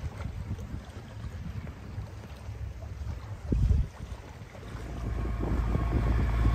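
Wind buffeting a sailboat at sea off the Turkish coast, a low rumbling gusty roar on the microphone with a brief loud gust midway and rising strength toward the end, no talk.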